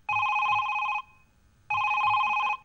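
A telephone rings twice in two loud electronic bursts with a short pause between, alone and close by.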